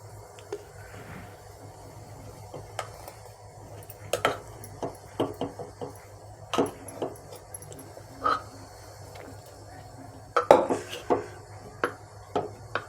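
Cooked rice is tipped into a pot of tamarind pulihora paste and mixed with a spoon, giving scattered close clinks and scrapes of metal against the pot over a quiet background.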